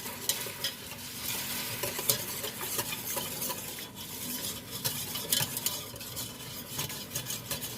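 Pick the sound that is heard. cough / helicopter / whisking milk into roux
whisking milk into roux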